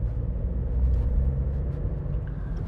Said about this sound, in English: little buzzy engine